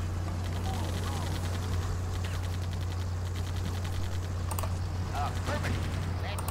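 Gunfire in the Blitzkrieg strategy game during the Operation Overlord invasion mission, rapid faint crackling bursts over a low steady hum, with someone talking quietly over it.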